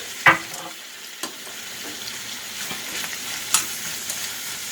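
Garlic and herbs sautéing in a pan for turkey gravy, giving a soft, steady sizzle with a few sharp stirring clicks and pops near the start and around the middle, with no talk over it.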